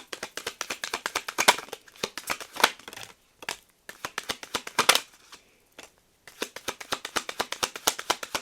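Oracle cards are shuffled by hand in bursts of quick papery riffles and slaps, close and crisp, with brief pauses between rounds and no talking.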